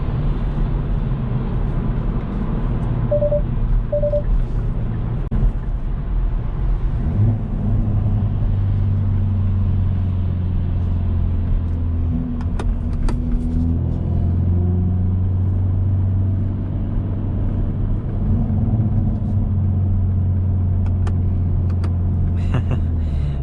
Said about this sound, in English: The rev match is amazing, and this exhaust just sounds so good.